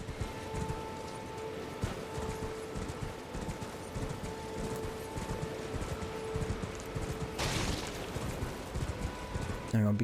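Horse hooves clip-clop in a steady trotting rhythm in the video game Elden Ring on PS5, moderately loud with wind and ambient game sounds underneath and a brief rush of noise toward the end.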